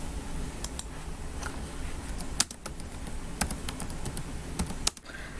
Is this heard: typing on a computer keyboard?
yes